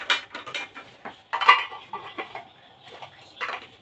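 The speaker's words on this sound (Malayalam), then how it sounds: "സ്റ്റീലിന്റെ ലഞ്ച് ബോക്സ് ആട്ടോ." A steel lunch box and spoons handled close up, giving a series of short metallic clinks, taps and rattles in irregular bursts, with no talking.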